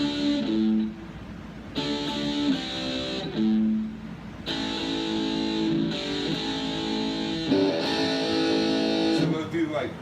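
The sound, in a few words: electric guitar palm-muted low pedal tone metal riff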